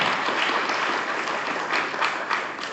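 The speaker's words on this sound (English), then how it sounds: "We should give a round of applause to Terry Cook" Steady applause from an audience at a party chair forum, dense and fairly loud for about three seconds with no speech over it.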